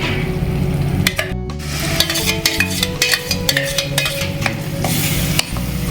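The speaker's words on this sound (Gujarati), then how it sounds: "ગ્રેવી નાખવામાં આવે છે હવે આને બરાબર હલાવી દેવામાં આવે છે" Paneer gravy gets stirred vigorously in a pan, loud rhythmic scraping and clattering strokes over a continuous bubbling sizzle, close by.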